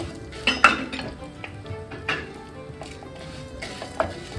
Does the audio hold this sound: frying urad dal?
yes